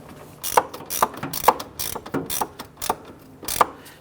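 Ratchet wrench snugging cowl screws on a 1997-2006 Jeep Wrangler during a windshield cowl weatherstrip replacement, giving a series of sharp, evenly spaced clicks, close and alone.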